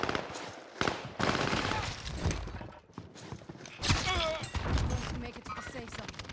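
Bursts of automatic gunfire crackle in a Warzone match, with rapid shots in uneven clusters. A player talks over the shooting.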